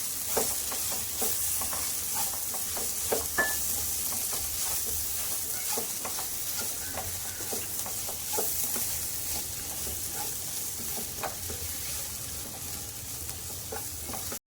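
A spoon stirs chicken masala and coriander powder through sizzling oil in a frying pan for a chicken biriyani, with a steady frying hiss under repeated close scrapes and taps of the spoon against the pan.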